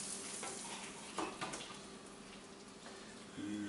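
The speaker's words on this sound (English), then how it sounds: "And you can hear the sizzling from there." Quiet crackling and popping sizzle of bacon cooking in a microwave, faint and continuous, with a few soft knocks and a brief hum near the end.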